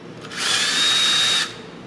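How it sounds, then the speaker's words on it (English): A power drill bores a big hole into an end-grain honey locust wood bowl, a short, loud, steady high whine lasting about a second before stopping, close and with no talking. "I'm going to go ahead and drill a big hole in it as far as I can."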